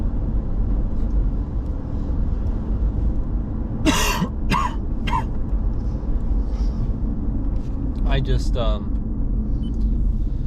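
Two or three short coughs sound over a constant low rumble of road traffic, followed later by a brief throaty noise.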